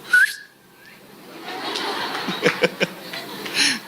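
During a church meeting, one sharp whistle rings out from the congregation, followed by scattered chuckles, taps and murmurs in a room.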